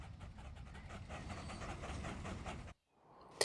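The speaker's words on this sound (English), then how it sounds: "we go ahead and release that train" A train rolls along rails in the Transport Fever 2 video game, a steady rhythmic clatter with faint pulsing wheel beats that runs for nearly three seconds before cutting out abruptly to near silence.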